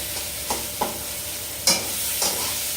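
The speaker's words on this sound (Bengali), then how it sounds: "এরপর আমি আলুটাকে সুন্দর করে ম্যাশ করে নেব মশলার সঙ্গে" A spoon scrapes and stirs in a pan as potato is mashed and fried with spices for kabli chola, a few distinct knocks over a steady soft sizzle, close and without talk.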